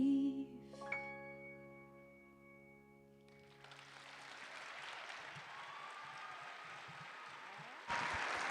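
Audience applause after a performer's song at a Broadway season reveal, rising as the final sustained musical notes fade, then continuing as a steady wash of clapping that swells near the end.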